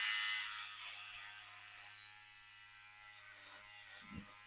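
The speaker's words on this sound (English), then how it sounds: "So we're going to start with the shaver, all right? And we're just going to work it like this," An electric shaver buzzes steadily while shaving a man's beard, a constant close hum running throughout with a brief thump near the end.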